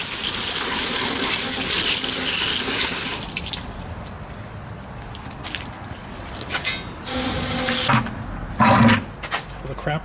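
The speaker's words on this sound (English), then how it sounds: "I got hot water tapped to this hose," Hot water gushes from a hose onto the rear axle of a 1973 Oldsmobile 442 during cleaning, a loud, steady hiss for about three seconds that then cuts off, leaving quieter splashes and clatter.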